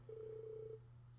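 A single steady ringing bell-like tone, held for under a second over a low constant hum, marks bells sounding late at night in the Trails of Cold Steel video game; no voices are heard.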